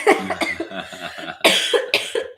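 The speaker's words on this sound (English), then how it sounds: "Excuse me for coughing" Several sharp coughs from a person, with dense bursts near the start and again midway, close and fairly loud, mixed with some vocal noise.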